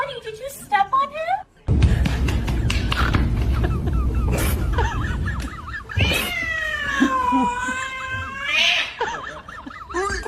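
A cat meows and caterwauls loudly and repeatedly, with a long drawn-out yowl near the end, while people talk and exclaim over it in a cluttered indoor room after flour has been dumped on the cat.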